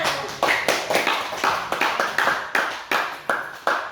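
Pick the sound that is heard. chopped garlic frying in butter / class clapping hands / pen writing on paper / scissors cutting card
class clapping hands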